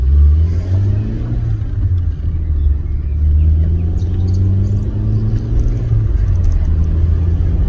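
Rover 213S SD3 car accelerating from low revs: a loud, continuous low engine drone whose pitch climbs steadily as it pulls, heard from inside the car, with no talking.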